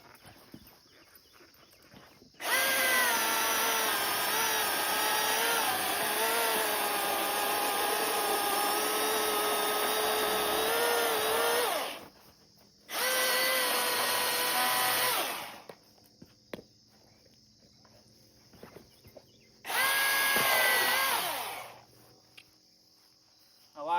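A new chainsaw cuts camp firewood on the ground, with three loud sustained buzzing runs. The first lasts about ten seconds and two shorter bursts follow, separated by quieter idle gaps.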